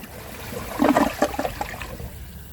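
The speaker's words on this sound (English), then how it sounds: "The flush could definitely benefit from more water." A 2015 Kohler Cimarron one-piece toilet flushes up close, a gurgling rush of water that swells quickly and then trails off into a weaker trickle, heard alone with no talking.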